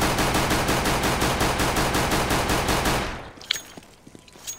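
Rapid automatic gunfire in a shooter video game while strafing sideways, a dense, evenly spaced burst of shots for about three seconds, then a few clinks and faint clicks as it stops.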